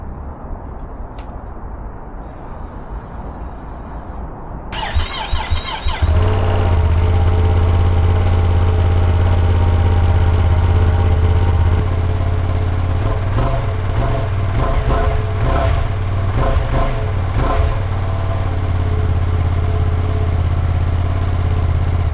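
A 2026 Ducati Panigale V2 S sport motorcycle with a high-mount exhaust idles loudly and close by, a steady deep rumble with a slightly uneven pulse after a quieter opening.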